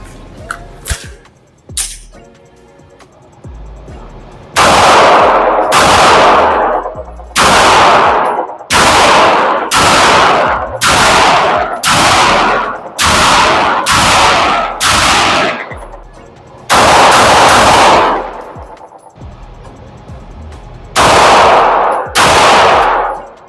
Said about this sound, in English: let's put some more rounds down range